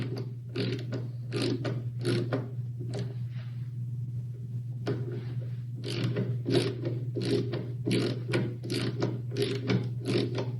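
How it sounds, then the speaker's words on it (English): Torque wrench clicking and ratcheting as fasteners are tightened on an aircraft 400 series panel, a close, steady run of sharp mechanical clicks under a constant low hum. "For our final step in installation of a 400 series panel, we are going to torque the fasteners."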